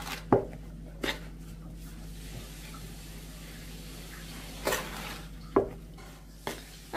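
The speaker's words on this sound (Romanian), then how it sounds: "Și acum o să amestecăm aici așa bine." Apple cake batter is mixed by hand in a bowl, with scattered knocks and scrapes of the utensil against the bowl over a steady low background hum.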